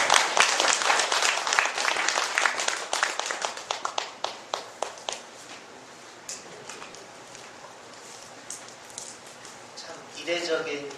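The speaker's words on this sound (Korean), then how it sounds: "뜨거운 박수로 맞이해 주시기 바랍니다" Applause breaks out at an association election candidates' forum in Korea as the host is welcomed, a dense burst of clapping that thins into scattered claps and fades, followed by a brief murmur near the end.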